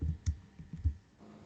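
Keystrokes on a computer keyboard while entering data, a handful of soft irregular clicks close by in a quiet room, with no talking.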